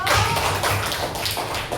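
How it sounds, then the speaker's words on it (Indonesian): Classroom applause breaks out during a lesson, a steady patter of many hands clapping close by for the whole short stretch. "tepuk tangan untuk Marcelo."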